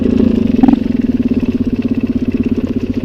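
A Suzuki 125 TSR trail motorcycle idles close by, its single-cylinder engine throbbing in a steady, rapid low pulse with a brief rev blip near the start, loud and alone.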